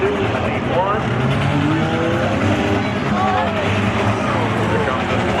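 Race cars roar through a figure 8 race at Seekonk Speedway, engines loud and close with revving and tire noise, while an announcer talks over them throughout.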